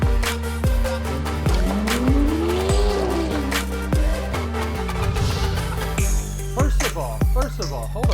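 A car with squealing tires, screeching loudly with a rising pitched whine over heavy, steady engine rumble, with a few sharp thumps repeating throughout; no talking over it.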